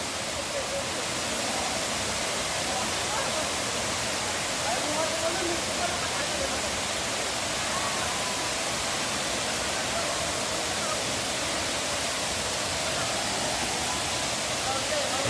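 Daranak Falls waterfall roars in a steady, dense wash of falling water that stays constant and even throughout, fairly close and with no clear voices.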